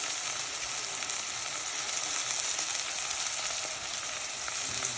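Thinly sliced green chillies fry in oil in a pan while goat leg soup is being made, giving a steady close hiss and sizzle with no talk.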